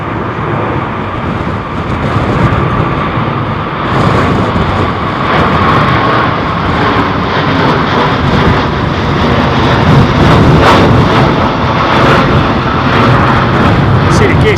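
A jet airliner climbs away during a go-around at London Heathrow in Storm Isha with its landing gear still down, a loud sustained engine roar mixed with heavy wind buffeting, under excited commentary.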